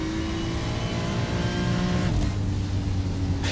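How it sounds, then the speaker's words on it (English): GT race car in iRacing lifting off the throttle before a braking zone, a loud steady engine drone whose pitch drops partway through as the revs fall. "You can hear him lifting off the throttle going into braking zones."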